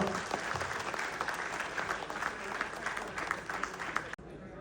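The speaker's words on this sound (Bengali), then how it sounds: "সন্তান ও মাদের অনুরোধ করব বাবাদের জন্য একটি করতালি দেওয়ার জন্য" Children and mothers in the audience at an awards ceremony applaud the fathers, a dense, sustained round of clapping that cuts off abruptly near the end, with a voice faintly present underneath.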